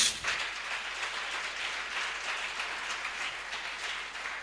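A church congregation at a prophetic worship service applauds, a steady wash of clapping that starts strong and carries on evenly throughout.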